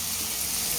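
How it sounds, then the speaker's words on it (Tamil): Food sautéing in a pan until golden while making kothu parotta, a steady soft sizzle and hiss running unbroken through the brief moment. "பொன்னரமாக வதக்கிட்டு"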